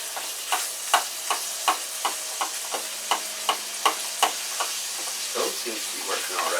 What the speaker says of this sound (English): what I've got here is just a little bit of ground beef. I'm just going to brown this up a little bit.